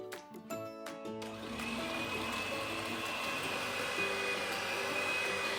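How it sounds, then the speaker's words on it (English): An electric whisk beating batter for a Luxembourgish dish, a steady loud motor whir that starts after a brief uneven moment and holds continuous to the end. "that's best done with an electric whisk"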